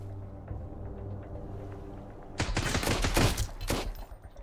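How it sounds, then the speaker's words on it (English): Bursts of machine gun fire during a pirate attack on a bridge in the survival game Sunkenland, starting after a quiet stretch and clattering loudly in rapid clusters before tapering off. "they have a fucking machine gun"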